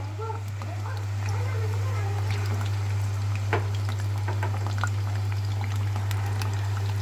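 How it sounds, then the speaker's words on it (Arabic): Potatoes frying in hot oil for homemade chips, a continuous bubbling sizzle heard close up beneath someone talking, with a steady low electrical hum underneath. "سامعين صوت الطشه كده؟"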